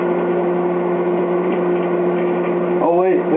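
Microwave oven on high with a CD player and five CDs inside, a steady loud electrical hum running throughout, broken near the end by a brief wavering crackle.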